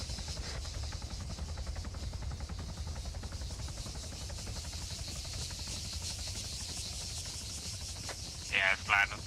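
Helicopter in the game Arma 3 comes in to land and deploy troops, a steady low, faint rotor throb with a rapid chopping pulse under hiss, broken near the end by two brief bright chirps.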